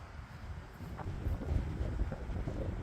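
Steady wind buffets the microphone outdoors, a low rumbling gusty roar that swells and eases without any voices.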